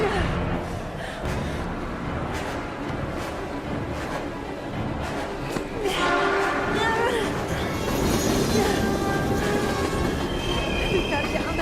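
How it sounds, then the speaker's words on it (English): A train rushes past in the Heavy Rain video game, a loud continuous rumble with rattling wheels and rising metallic squeal toward the end, filling the scene up close. "We've got to get on that train, Ethan."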